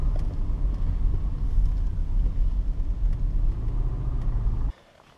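A car drives along a road in the dark on the way to a hiking spot, its steady low engine and road rumble loud and continuous, with faint music, before cutting off abruptly near the end.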